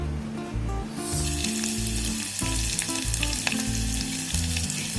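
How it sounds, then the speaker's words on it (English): Onions frying in hot oil to make beresta for a simple chicken biryani: a steady, close sizzle that runs through the whole stretch, with clinks and stirring scrapes popping up over it and no one talking. "we will be frying the onions and make some beresta."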